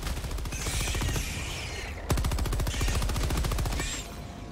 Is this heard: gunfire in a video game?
yes